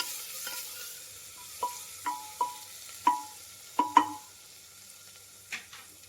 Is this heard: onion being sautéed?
yes